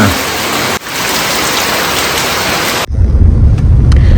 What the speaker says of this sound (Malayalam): ഇവിടെ നല്ല മഴ പെയ്യുകയാണ്